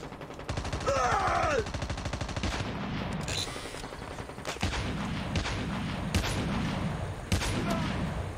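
Rapid gunfire bursts from a Call of Duty Mobile battle royale match on the Razorback map, dense repeated shots through most of the clip with louder single cracks later, over continuous game ambience.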